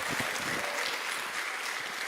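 A church congregation applauds during a Portuguese-language sermon on Genesis, a dense, steady wash of many hands clapping together, loud and continuous throughout.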